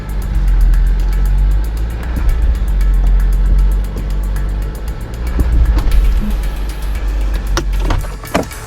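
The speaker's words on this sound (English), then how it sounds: "So, as expected, Wrangler made it all the way up, rear tire's still on the ground." A Jeep Wrangler crawls up a steep off-road climb in four-low with sway bars disconnected and both lockers engaged, its engine a loud steady low drone, with creaks and knocks from the suspension and rocks toward the end.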